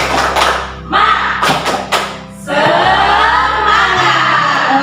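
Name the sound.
rhythmic 'tepuk semangat' clapping chant by teachers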